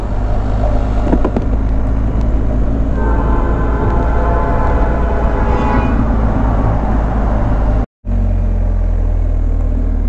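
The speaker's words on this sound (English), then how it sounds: "I get to go under the train." A train rumbles overhead while a car drives beneath a railway crossing in Bellevue, Ohio, a loud steady low roar with rattling and squealing through the middle, then a brief cut to silence before the rumble resumes.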